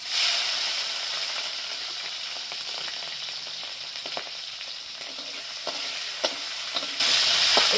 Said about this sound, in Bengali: এবার চিংড়ি মাছগুলোকে পুরো ভেজে নেব ভালো করে।